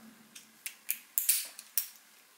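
A cheap gym locker padlock is worked with a lock pick, giving a quick series of about six to seven sharp, close metallic clicks and ticks over a couple of seconds.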